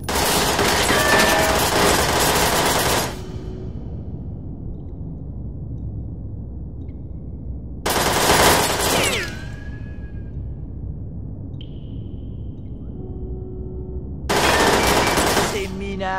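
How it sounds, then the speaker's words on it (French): Bursts of machine gun fire in Perfect Dark Zero on Xbox, three loud sustained volleys separated by quieter gaps with faint ambient hum and a brief whooshing tone between them. "Elle mitraille!"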